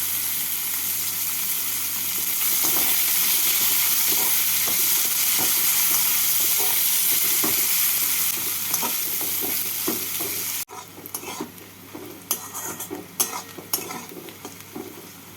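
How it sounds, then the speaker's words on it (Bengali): Chopped onion frying in oil with cardamom and cinnamon until browned, a loud continuous sizzle with stirring scrapes and clinks, then a cut to a quieter, patchier stretch of frying with sharp clicks. "পেঁয়াজটাকে এইভাবে লাল করে ভেজে নিলাম"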